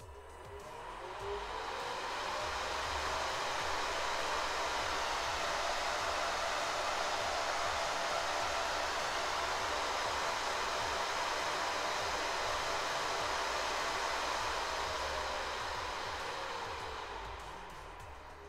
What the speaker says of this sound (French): Alors je viens de brancher l'aspirateur à l'alimentation, donc je vais vous faire écouter le bruit qu'il fait.